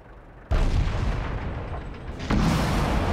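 105 mm tank gun fire and a hit on an M4 Sherman in World of Tanks. A sudden loud boom is followed by sustained rumble, then a second sharp impact blast.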